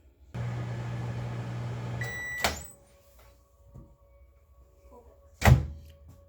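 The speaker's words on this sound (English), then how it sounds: "I'm gonna put it back in the microwave for another 15 seconds" A microwave hums steadily for a couple of seconds, then stops with a beep and a door clunk, followed by quiet and another thump.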